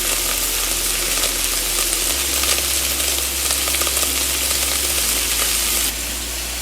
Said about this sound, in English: into the other pan, we're going to start with our smoked pancetta